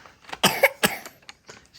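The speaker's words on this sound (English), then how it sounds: "She still has a tiny little cough" A young girl coughs several times in short, uneven bursts close by, with a slight throat-clearing quality and brief quiet gaps between the coughs.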